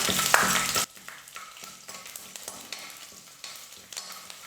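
Garlic cloves drop into a pan of frying urad and chana dal, starting with a loud burst of sizzling that quickly settles into a softer crackle with light, irregular stirring taps.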